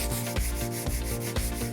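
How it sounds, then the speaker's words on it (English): Sandpaper rubs by hand over the veneer of a vintage wooden deck chair in brisk back-and-forth strokes, about four rhythmic scrapes, close and fairly loud with no talking. "It's out with the sandpaper and the elbow grease."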